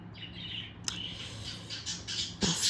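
A pet bird gives scattered squawks and chirps at close range, a few sharp bursts over a steady low room hum.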